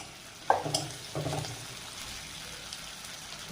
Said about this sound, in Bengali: ধুলে জিরে, ঝালের গুঁড়ো, হলুদ দিয়ে ভেজে নিয়ে